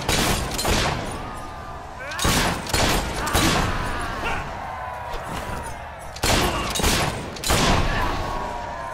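Gunfire in Fable III, several sharp loud shots and crashes over a dense clattering battle din, with voices and effects mixed in throughout.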